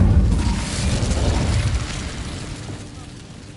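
An Incendio fire spell cast in the Hogwarts Legacy video game bursts out as a loud, booming whoosh of flame that hits at once and then slowly fades over a few seconds.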